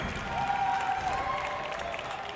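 A large BlizzCon audience applauds in a continuous, dense patter of clapping that holds steady, with faint voices mixed into the crowd noise.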